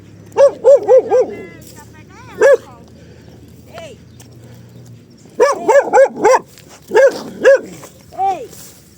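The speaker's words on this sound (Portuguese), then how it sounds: "tem um cachorro aqui" A dog barks in quick bursts of three or four sharp yips and barks, loud and near, with pauses between clusters, encountered on a street run.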